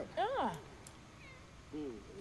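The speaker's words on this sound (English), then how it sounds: "And the cat screeching in the background" A cat meows loudly twice in a short, rising-and-falling yowl near the start and a softer, shorter meow near the end, set against a quiet indoor background.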